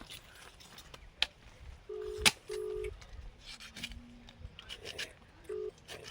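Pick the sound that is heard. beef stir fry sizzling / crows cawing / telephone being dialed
telephone being dialed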